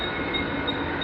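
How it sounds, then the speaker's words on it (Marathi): A 15-car Thane fast local train departs, giving a continuous mid-level rumble and hum from inside the carriage with a faint steady whine above it and no one speaking. "फायनली मित्रांनो निघाली गाडी।"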